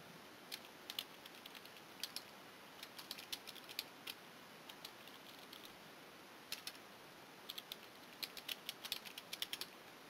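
Typing on a computer keyboard to enter a name and description for a new item in server software, heard as irregular clusters of light clicking keystrokes with pauses between bursts, fairly faint and with no talking.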